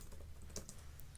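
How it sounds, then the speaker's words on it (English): A computer keyboard is tapped in a quiet room, giving a few soft, sparse clicks that stay faint and close. "Let me just put my keyboard down for a second."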